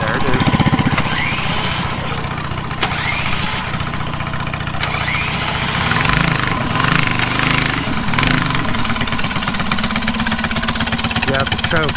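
A drag racing mini bike's small engine fires up and runs at a loud, steady chug with a rough, knocking idle throughout, while people talk over it close by.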